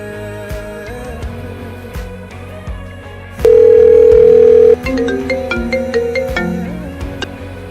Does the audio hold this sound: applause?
no